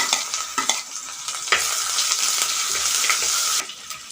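Crushed ginger, garlic and curry leaves fry in hot oil with a bright, continuous sizzle. Sharp spatula scrapes and stirs cut through it now and then before the sizzle drops slightly at the end.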